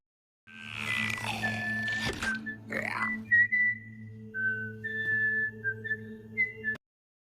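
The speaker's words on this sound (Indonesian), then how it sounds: "Chung San lalu mengalihkan perhatian Gyung-soo yang telah berubah menjadi zombie dengan siulan kesukaan mereka." A favourite tune whistled in the Korean zombie series All of Us Are Dead, a wavering melodic whistle carrying on over a low droning background hum and a few rough bursts.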